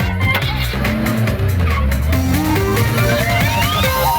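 A car tears away fast with tires squealing and engine roaring, loud and close, over a dense bed of dramatic background music.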